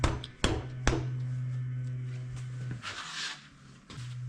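Bar end tapped onto a Stark Varg electric motocross handlebar, a couple of sharp knocks near the start followed by a steady low hum, close and moderately loud.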